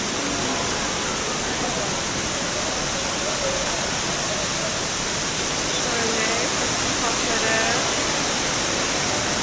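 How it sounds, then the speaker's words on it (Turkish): Steady rain hisses down over an outdoor flower market stall, a dense even wash of noise that runs throughout while a voice talks over it. "Yağmur sesi de o kadar güzel geliyor ki."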